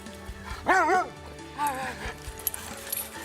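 Dogs at a dog shelter, a few close bow-wow barks with yipping whines in two short bursts, separated by quieter background.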